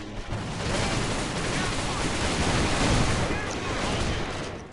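A Thompson M1921 fires in the video game AVA, a sustained dense roar of rapid gunfire with explosions blending together, loud and continuous, with a voice talking underneath.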